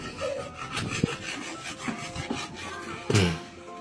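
A saw cuts through wood somewhere outdoors. Quiet, repeated rasping strokes come in an uneven rhythm, with a sharper scrape near the end.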